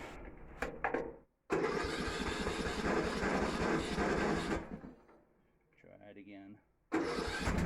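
A tractor-style riding lawn mower engine cranks and catches, then runs loud and steady with the choke up and clutch down, dropping back and then revving again; a person speaks briefly at the start.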